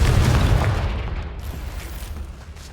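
A Confringo blasting curse explodes in Hogwarts Legacy, one loud, deep boom with a heavy low rumble that decays over a couple of seconds, with no talking.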